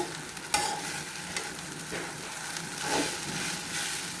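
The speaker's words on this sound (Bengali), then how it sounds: "এই তো আমার সজনা পাতা ভাজি" Moringa leaves frying in hot oil in a pan, giving a steady close sizzle with occasional stirring scrapes and small pops throughout.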